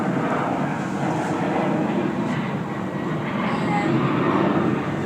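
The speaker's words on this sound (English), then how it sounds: "you can hear the plane activity" Airplane flying overhead, a broad steady roar of engine noise that swells slightly toward the end, heard from a distance outdoors for about five seconds with no clear voices.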